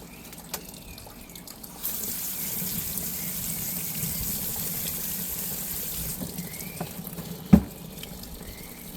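Water runs from a tap while a tumbled stone is scrubbed, a soft steady splashing hiss that starts after a quiet moment, continues for several seconds, then stops, followed by a single sharp knock.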